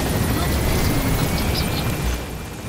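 A helicopter in the video game Metal Gear Solid V drones with a loud, steady rotor rumble that continues for a few seconds, then drops down at the end as the sound eases off.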